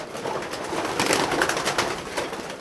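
Racing pigeons coo inside a loft, with soft, repeated throaty coos overlapping close by against a quiet background.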